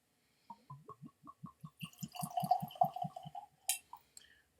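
Scotch whisky, an A D Rattray Croftengea 12 Highland single malt, glugs into a Glencairn glass with a quiet, rhythmic series of gurgles that speed up and blur into a soft liquid trickle, with a small clink near the end.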